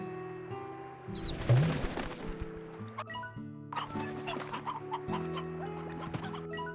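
Briar hens from the game Slime Rancher cluck and chatter in short, scattered bursts over a soft musical background, with no talking.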